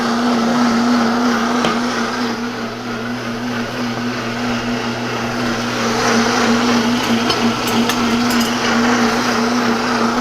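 Resle Multi-Detox blender grinding raw soybeans into soy milk, a loud, steady motor whine that runs continuously and close by without pause.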